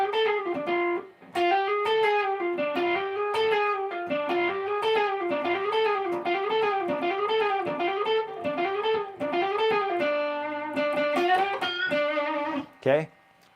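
Distorted electric guitar playing a fast blues lick in D with a flattened fifth, a busy run of bent and repeated notes, loud and close, with a brief pause near the start and a sharp ending flourish.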